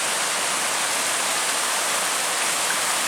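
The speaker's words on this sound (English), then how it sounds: "Here's the waterfall on the bridge." A waterfall by a bridge at Mosquito Creek roars as a loud, steady wash of rushing water, unbroken and close, with no voices.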